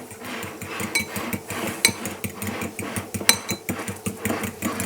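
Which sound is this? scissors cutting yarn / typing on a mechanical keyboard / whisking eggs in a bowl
whisking eggs in a bowl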